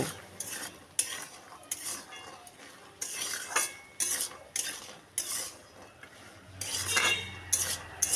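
A spoon stirs a spiced chickpea mixture with salt and turmeric in a pan, making repeated scraping and clinking strokes about once a second over a faint sizzle, close up with no voices.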